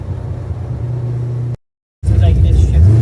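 Old project car, parked since 1999, driving with a loud, low engine rumble that cuts out briefly midway before returning louder, with voices mixed in.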